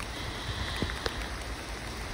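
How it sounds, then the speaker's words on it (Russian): Rain falls outdoors over a rock garden, a soft, faint steady patter with a few distinct drop taps standing out against the low hiss. "дождь меня просто выгоняет с улицы"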